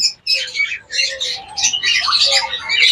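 Pet birds in a bird shop, including an albino pair, call close by in bursts of bright chirps, tweets and squawks, overlapping into a busy chatter.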